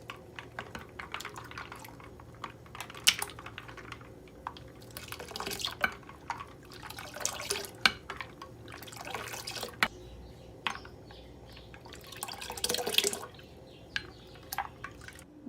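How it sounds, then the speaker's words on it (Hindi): Ice cubes tumble and clink into cardamom milk sharbat and are stirred through, giving scattered close clatters and liquid sloshes with brief louder bursts, no voices. "अब हम इसके अंदर डालेंगे ढेर सारी बर्फ, ताकि ये और ठंडा मज़े का बन जाए। और इसको करेंगे मिक्स।"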